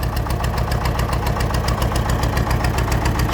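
Fordson Major tractor engine running steadily in gear with the hydraulics in and the PTO engaged, a loud, even chugging knock close by with constant vibration and no talk.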